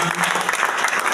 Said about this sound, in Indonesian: Tepuk tangan buat mereka dulu.